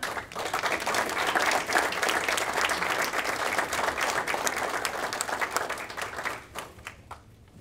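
A group at an awards ceremony breaks into steady, dense applause with some cheering, loud and continuous for several seconds before tapering off into scattered claps at the end.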